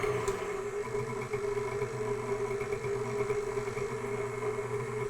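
A KitchenAid Artisan stand mixer with faulty gears runs continuously with a steady mechanical hum and grinding drone, close and constant throughout, with no talking.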